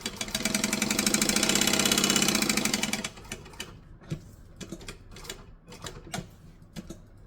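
A sewing machine stitches through a fabric possum pouch, first a fast continuous whirring run for about three seconds, then a series of short, separate bursts as it backstitches, close and without talk.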